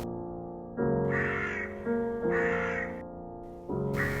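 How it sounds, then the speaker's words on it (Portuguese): A crow calls from a treetop in three loud, harsh, drawn-out caws with short pauses between them, close and clear with no voices. "No cimo da árvore, o corvo canta e encanta."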